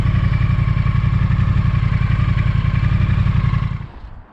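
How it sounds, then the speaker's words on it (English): A Triumph Thruxton motorcycle engine idles steadily and loudly up close, a dense low throb with light mechanical clatter, then cuts off near the end and the sound quickly dies away. "now I'm just running the engine to burn off any water that's stuck in places I couldn't get to"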